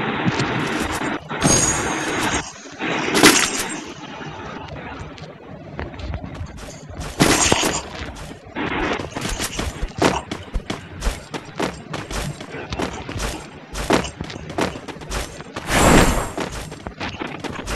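Gunfire in a shooting video game: scattered loud shots and short bursts crack out at irregular intervals, mixed with clatter and other game effects.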